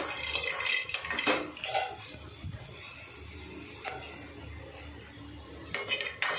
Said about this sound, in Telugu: చూడండి పల్లీలు వేయించుతున్నాయి ఇటు సైడు